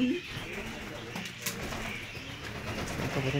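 Low pigeon cooing close by in a noisy outdoor setting, with soft murmured calls and background rumble.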